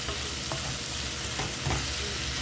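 Sweet-spicy fish cake stir-fried in a pan, with a steady close sizzle and occasional scraping stirs throughout.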